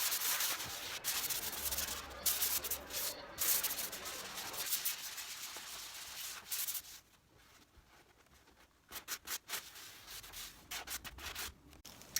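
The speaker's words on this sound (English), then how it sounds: "I am going over it with a light sanding using a 320 grit sanding sponge" Light hand sanding of a painted kitchen chair with a 320 grit sanding sponge, a soft, steady rubbing scrape in close back-and-forth strokes that pauses briefly and resumes in short bursts near the end.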